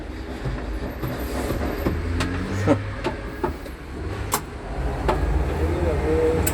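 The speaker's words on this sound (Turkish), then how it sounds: "Şu anda bir motorun bir sesini dinleteceğim" A Case JX65 tractor engine runs with a steady, close, low rumble, broken by scattered sharp clicks and knocks.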